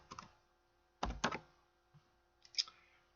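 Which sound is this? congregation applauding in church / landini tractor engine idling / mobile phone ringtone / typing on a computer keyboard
typing on a computer keyboard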